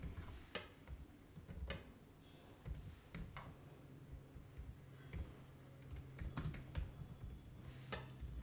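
Fingers tap on a computer keyboard while code is entered in the Python 3.10 IDLE editor. The keystrokes come as close, quick, uneven clicks in short bursts over faint background hum, with no one speaking.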